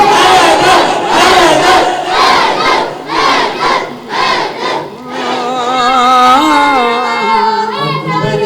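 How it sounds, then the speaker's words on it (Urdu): A large group of children chant rhythmic slogans in unison at a Safar religious gathering in Dhok Feroz, Chakwal: loud, repeated shouted phrases in a steady pulse, followed by a sustained, wavering voice. "بچوں کی حوصلہ افزائی کے لیے نعرے بچے لگا رہے ہیں"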